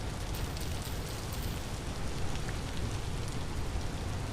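Steady rain falls in a video game, a dense, even hiss of droplets that stays loud and constant throughout with no voices over it.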